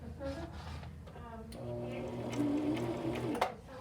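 Sewing machine with a button foot stitching back and forth in short bursts, a quick rhythmic whirring that starts and stops, ending with a small sharp click; no one speaks.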